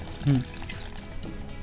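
Water poured into simmering gravy in a home kitchen, a short splashing pour near the start that trails off, with people talking throughout.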